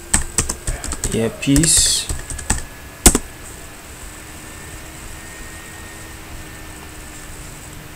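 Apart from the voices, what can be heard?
typing on a computer keyboard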